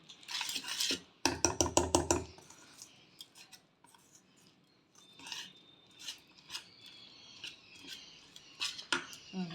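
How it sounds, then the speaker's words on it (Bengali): Eggs whisked in a bowl for a bread omelette, quick rhythmic clinking taps of utensil on dish in a fast burst, then scattered lighter clinks and scrapes nearby. "আগে ডিমে কতটা কি হচ্ছে এটা একসাথে ফেটিয়ে দেব"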